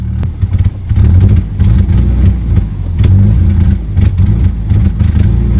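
A Nissan S14 240SX with electrical faults runs rough as the throttle is blipped, its engine stumbling and surging unevenly in loud, close bursts with no steady idle between them.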